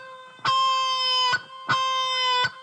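Two sustained electric-style guitar notes, each a half ghost bend released down to about a quarter step, played cleanly and alone with a short gap between them.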